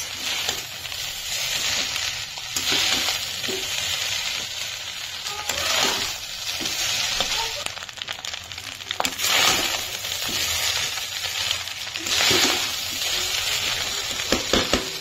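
Fried rice stirred and mixed in a hot pan, a continuous sizzle broken by repeated scraping bursts of the spatula, fairly close and with no talking.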